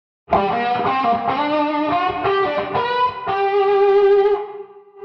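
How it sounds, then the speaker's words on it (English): An electric guitar plays a bluesy riff with a rich chorus shimmer and reverb, notes ringing out clearly before fading at the end. "By adding a little reverb and chorus or something like that, you can actually you just play straight up blues"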